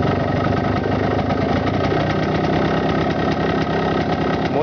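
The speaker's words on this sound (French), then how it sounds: "on augmente le régime du ralenti à la main" A warm carburetted engine idles steadily and loud, its idle speed raised by hand at the throttle stop screw, holding an even, continuous rumble throughout with no talk.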